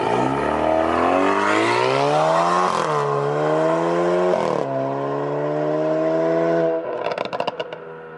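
An Alfa Romeo Giulia launches with a loud engine revving and climbing through gears, pausing at each shift, before ending in a rapid crackling burble near the end.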